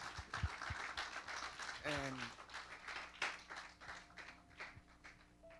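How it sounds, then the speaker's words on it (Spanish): A church audience gives fairly faint, scattered applause, while a brief tonal sound and voices break through partway. "Un fuerte aplauso."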